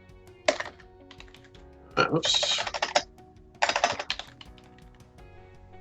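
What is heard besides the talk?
typing on a computer keyboard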